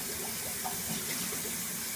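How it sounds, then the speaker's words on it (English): Cold water sloshes and swirls inside a hookah base as it is shaken to rinse it: a continuous, fairly loud, churning liquid rush with no talking. "Shake it around, rinse it."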